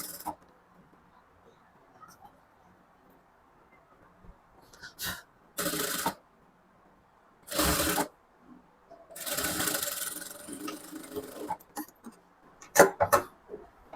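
Sewing machine stitching a blouse lining in short separate bursts of whirring, with quiet pauses and soft handling noises between runs.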